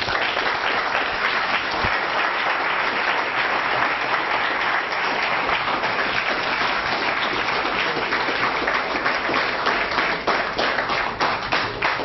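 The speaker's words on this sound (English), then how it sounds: "Could you give one final round of applause for all of our speakers?" Dense, sustained audience applause fills a university debate hall after the speakers finish, loud and even from start to end with no talking over it.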